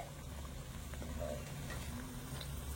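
Chhana jalebi sweets fry in hot oil with a soft, steady bubbling sizzle, faint and close, with no speech over it.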